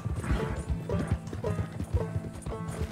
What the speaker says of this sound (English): Okay, I can't seem to slow my horse down.